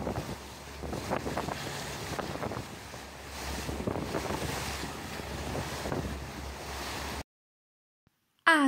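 A boat moves across the sea off the west coast of Scotland, with steady engine hum, wind buffeting the microphone and water rushing along the hull, ending in a short silent gap.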